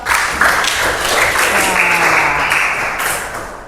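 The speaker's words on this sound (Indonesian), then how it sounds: "tepuk tangan" A classroom full of students claps for a classmate, a brisk burst of applause that swells quickly, stays dense, and tapers off after a few seconds.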